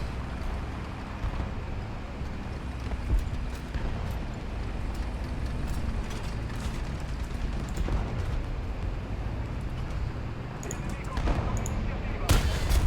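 An M44 self-propelled howitzer in a video game fires high explosive rounds: a few heavy booms, one near the end, stand out over a constant low engine rumble and battlefield noise.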